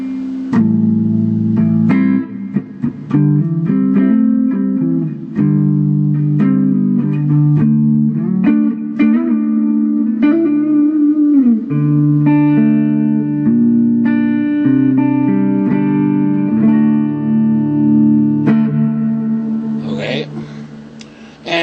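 An electric guitar plays chords and picked notes through a small combo amp with a 10-inch speaker, clean and close, with a short strum at the end.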